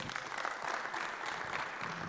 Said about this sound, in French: je vais demander qu'on applaudisse encore pour Mama Mab.